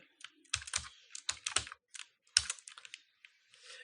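Close, quiet keystrokes clatter on a computer keyboard while HTML code is typed, in short uneven bursts with brief pauses and no talking.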